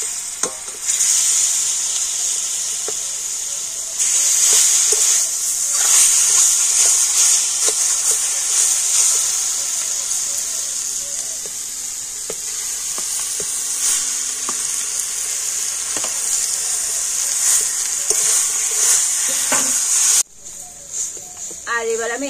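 Mashed olives hit a pan of hot oil with dried chilli and five-spice, giving a steady, close sizzle and hiss with occasional stirring scrapes, a voice speaking over it and a sharp cut near the end.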